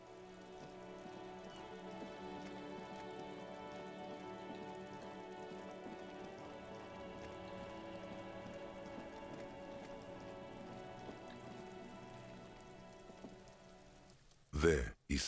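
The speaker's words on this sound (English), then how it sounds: "This rain will not let up anytime soon." Steady rain pours through a street scene in the video game Disco Elysium, a continuous close hiss of drops on surfaces that holds for most of the stretch before a brief loud burst cuts in near the end.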